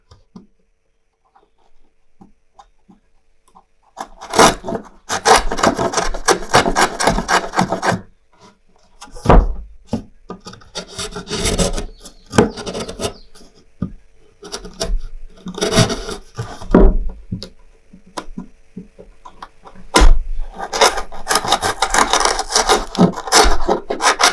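Chisel work on wood in a carpentry job: loud bursts of scraping and rasping as the blade pares through the grain come in three long spells, split by short taps and quieter gaps, with no talk.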